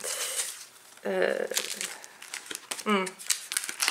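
Plastic or paper wrapping crinkles and rustles as a parcel containing an album from an Action and Centrakor haul is opened, bursts of crumpling coming close and fairly loud between stretches of talk.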